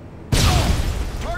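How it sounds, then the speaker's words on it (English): A stun grenade going off in Modern Warfare 2, a sudden loud burst after a short lull followed by a sustained noisy ringing wash of sound. "Throwing a stun grenade!"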